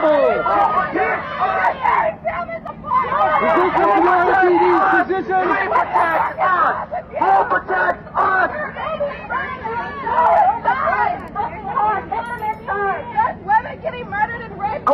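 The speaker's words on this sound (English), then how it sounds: "Crowd is loud, y'all" A loud protest crowd fills a street in Phoenix, Arizona, with overlapping shouting and chattering voices, a dense, close, constant babble throughout that rises and dips with individual calls.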